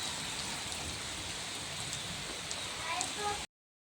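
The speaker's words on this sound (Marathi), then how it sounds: "आज पाऊस खूप जादा आहे" Heavy rain pours down in a dense, steady roar, with occasional louder drips and splashes nearby before it cuts off abruptly.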